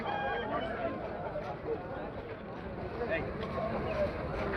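Chickens cluck and squawk in a noisy, crowded market setting, with a steady roar of background sound throughout; fighting roosters and chicks at Kunnathur chicken market.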